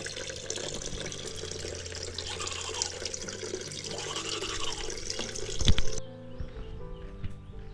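Water from a storage tank pours steadily from a tap while someone washes their face, a loud continuous splashing rush with a brief heavier splash before the flow cuts off abruptly.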